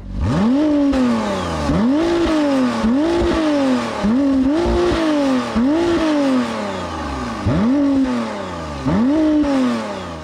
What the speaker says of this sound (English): The exhaust in the Artura. And how does it sound? It's now a V6.